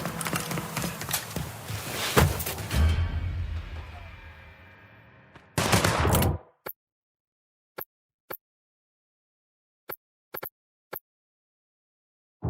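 Gunfire in Mafia 3 opens with a dense burst of loud shots and rumbling echoes, then falls to a few sharp, isolated single shots spaced apart in near silence.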